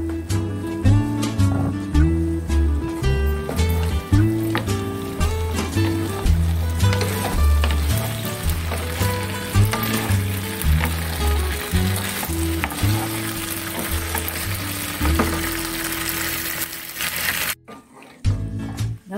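Jalapeno fries with shrimp, potato, carrot and green bell pepper in a pan, giving a steady loud sizzle under prominent background music throughout, ending with a brief drop-out.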